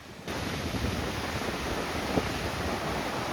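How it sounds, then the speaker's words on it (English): Fast-flowing white water on the Corrib River in Galway, a steady broadband rush that fills the whole stretch at even loudness, with wind buffeting the microphone. "The Corrib River here is one that flows really quickly, so I kind of enjoyed it, and you'll see the white water coming up"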